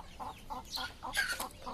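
Large Brahma hens cluck in a short run of quick, close, rhythmic clucks, with a few sharper higher calls mixed in and no talking over them.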